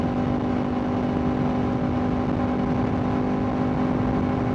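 Steady engine whine and road roar from a BMW M2 xDrive with a BT Moto Stage 1 tune under sustained acceleration, continuous and fairly loud with an unchanging tone and no voices.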